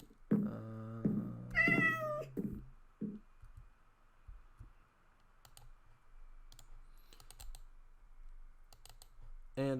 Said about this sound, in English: And I gotta go fishing to tame that cat.